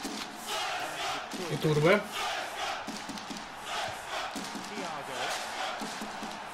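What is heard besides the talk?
stadium crowd of football fans chanting in Pro Evolution Soccer 2013 video game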